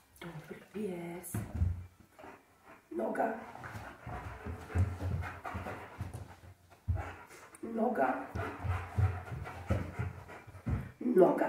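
A German shepherd pants in quick rhythmic bursts during indoor obedience training, close by, with a voice giving commands over and between the breaths.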